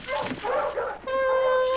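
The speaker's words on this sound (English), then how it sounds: "More than one dog, and coming closer." Several dogs in an animated children's story yip, whimper and bark as they draw closer, a busy overlapping chorus followed by a sustained tonal cry near the end.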